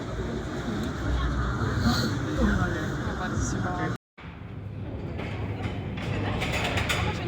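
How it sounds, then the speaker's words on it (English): A small, rickety lift in the Wieliczka salt mine near Krakow runs with a steady mechanical rumble and rattling clanks, with a short cutout partway through, while people talk nearby. "the way out is via this very dodgy, small elevator"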